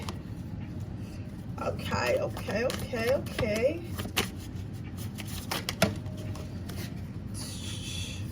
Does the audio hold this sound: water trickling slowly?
no